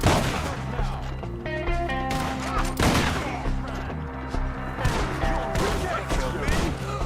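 Gunfire from a shootout in the video game Red Dead Redemption 2 comes in rapid bursts of loud shots across several seconds. Shouting voices and tonal game sound run beneath it.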